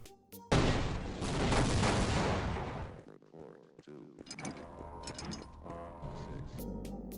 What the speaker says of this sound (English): The explosions are pretty cinematic though, I love them.